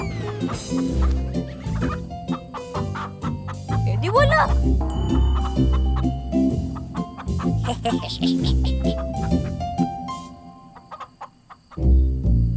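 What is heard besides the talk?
chickens clucking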